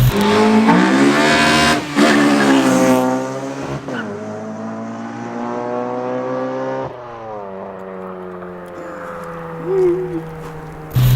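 A Honda Civic Type R EP3 engine revs hard and climbs in pitch, then drops and settles into a throaty exhaust drone, loud and close.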